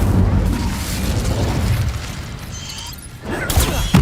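An Incendio fire spell is cast in Hogwarts Legacy. A steady, rushing, booming blast of flame roars throughout, dips briefly, then surges back with a sharper crackling burst near the end.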